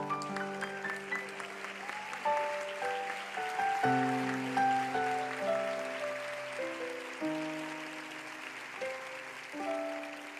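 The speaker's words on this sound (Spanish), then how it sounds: "démosle un aplauso al Señor" A church congregation applauds with a soft, steady clatter of clapping over sustained organ or keyboard chords during a Spanish-language worship service.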